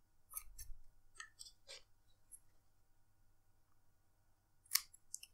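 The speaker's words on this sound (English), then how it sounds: "Just trim it straight to the base." Scissors trim cotton wick to the base of a Damn Vape Fresia RTA atomizer with a few crisp snips, close and very quiet against near silence, followed by one sharper click near the end.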